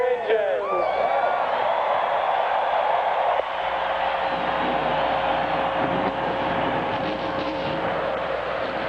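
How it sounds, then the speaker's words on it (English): NASCAR stock car engines firing up at Michigan International Speedway, a dense rumbling roar of many engines building into a sustained drone over crowd noise, with a steady tone emerging midway. "Drivers, start your engines."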